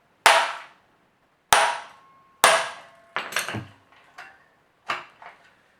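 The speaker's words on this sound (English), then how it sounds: "you give it a good whack with a hammer" Six sharp hammer strikes on a motorcycle exhaust pipe ring out one at a time with gaps between, each a bright clanging hit that decays quickly.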